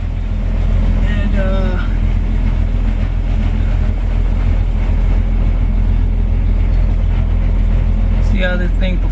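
A 1966 Ford Mustang with new transmission parts out on a test drive, its engine a steady, loud low rumble filling the whole stretch with little change in level.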